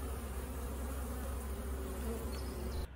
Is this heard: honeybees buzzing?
yes